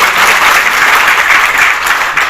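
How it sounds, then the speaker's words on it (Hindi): Traders at a business conference in Bhiwandi clap together in agreement about GST, a loud, dense, continuous burst of applause filling the room without any talk over it. "अगर मेरे भाई मेरे साथ सहमत है जीएसटी के बारे में तो जरा तालियां बजा के"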